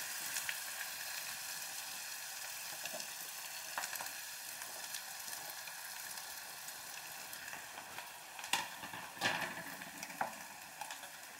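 Vegetables for fried rice sizzling and frying in a pan, a steady crackling hiss with occasional louder spatters and stirring bursts, no voices.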